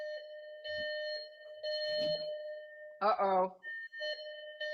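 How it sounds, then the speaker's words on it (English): A driveway alarm sounds a steady electronic tone with repeated beeps, fairly quiet and indoors, while people talk over it. "that's my driveway alarm letting me know"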